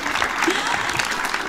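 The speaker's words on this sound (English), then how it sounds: "Can we please give the kids one more big round of applause for all of that drumming?" An outdoor Christmas concert audience applauds children's drumming with a short burst of steady clapping from a small crowd, with voices talking over it.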